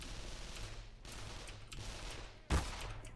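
A shotgun firing in the Black Mesa video game lands as a single sharp, loud blast near the end, over steady low game ambience and fainter scattered bursts earlier.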